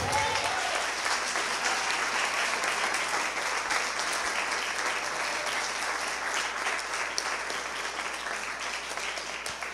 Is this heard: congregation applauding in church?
yes